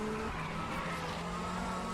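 Race car sliding with tyres skidding in a WTCC-style racing game at Spa, a steady engine drone with a continuous tyre scrub holding throughout at even loudness.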